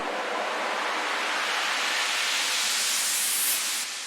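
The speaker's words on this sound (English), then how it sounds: "We have a sweep." A broad rising noise sweep effect for French disco house production that swells steadily, washed in reverb, and fades out with a trailing tail near the end.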